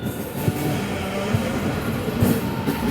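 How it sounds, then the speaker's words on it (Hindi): An Indian Railways train rolls on the opposite line near Bhusawal Junction, heard as a loud, steady rumble with periodic clunks of wheels over rail joints from a moving express; no one speaks. "कोई तो ट्रेन आ रही है उस तरफ से।"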